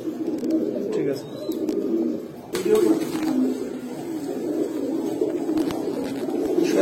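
A loft of Silver Bagha pigeons keeps up continuous low cooing, near and fairly loud, while a voice talks over it at intervals.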